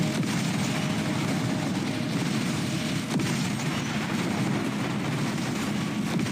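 Explosion in the War Robots video game, a dense, loud rumbling boom that rolls on continuously like heavy blasts and gunfire, with no pauses and no talk.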